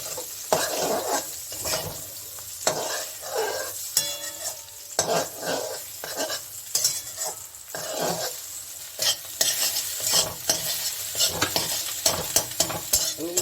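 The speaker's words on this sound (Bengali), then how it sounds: "আমি এটাকে ভেজে নিব" Okra with egg frying in a pan with pepper and salt, a continuous close sizzle broken by repeated scraping strokes of a spatula against the pan, no talking.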